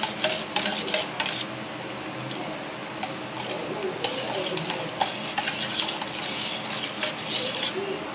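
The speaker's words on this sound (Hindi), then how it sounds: "अब इसमें हम 1 चम्मच बाजरे का आटा लेंगे, धीरे धीरे हिलाएंगे इसको।" Millet flour slowly stirred into buttermilk with a spoon in a pot, soft faint scraping and clinking that continues steadily throughout.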